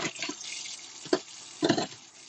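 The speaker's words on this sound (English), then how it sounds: "Just quickly rinse it down because" A running kitchen tap rinses out a pot that held turmeric rice. Close splashing water comes in short uneven bursts and gushes.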